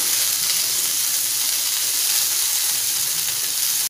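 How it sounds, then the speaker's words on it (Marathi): Okra (lady finger) stir-fried on a high flame in a kadai produces a loud, steady, unbroken sizzling hiss, close and even from start to finish. "मोठ्या गॅसवरती आपल्याला 1 मिनिट भेंडी परतवून घ्यायची आहे"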